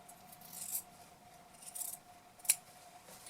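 Scissors snip through denim jeans being cut apart for an upcycled skirt, a few soft separate cuts with one sharper, louder snip near the end, close and quiet with no talking.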